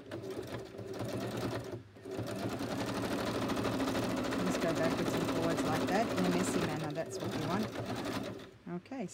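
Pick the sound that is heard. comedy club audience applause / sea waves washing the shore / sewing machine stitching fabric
sewing machine stitching fabric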